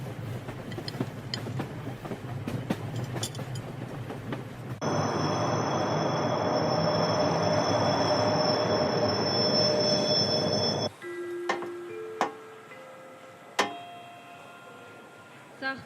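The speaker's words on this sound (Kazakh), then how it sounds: "Нөмірі 236-шы Астанадан Шымкентке қатынайтын жүйрік пойызы" An express passenger train from Astana to Shymkent arrives, with a steady rumble of rolling carriages and a long high wheel squeal, then scattered clanks and brake tones as it slows, fairly close.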